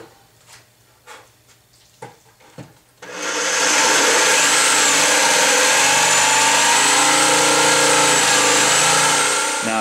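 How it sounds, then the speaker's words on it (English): A jigsaw cuts a design out of reclaimed pallet wood: a few faint knocks and handling sounds first, then the saw starts and runs loud and steady with a continuous buzzing whine to the end. "So now we're going to use our jigsaw, and we're just going to start cutting out this design."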